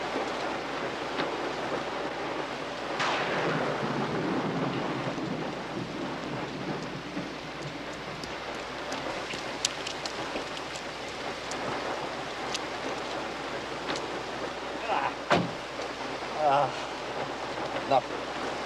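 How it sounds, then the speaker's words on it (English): Thunderstorm with heavy rain: a steady wash of downpour with a rolling rumble of thunder early on, then a few sharp cracks and splashes near the end, with voices briefly audible. "You don't like driving in heavy rain."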